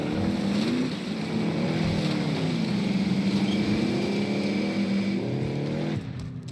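A vehicle driven in Call of Duty: Modern Warfare gives a steady engine drone with rising and falling pitch as it moves, then eases off near the end.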